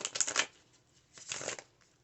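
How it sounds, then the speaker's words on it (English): Tarot cards are shuffled gently off to one side, two soft, brief riffling rustles separated by a pause, faint and close. "I'm shuffling, not like, I don't want to blow the cards away"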